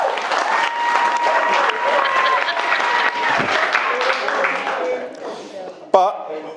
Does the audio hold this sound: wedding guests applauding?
yes